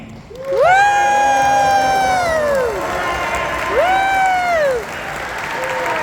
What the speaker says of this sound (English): Please give a cold shriek for one of the sons of Sir Graves, David Deming.